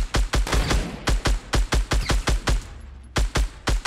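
Rapid series of suppressed gunshots from a gun in Fortnite, around a dozen sharp muffled cracks in a quick irregular rhythm with a short pause near the end, loud and close with no talking.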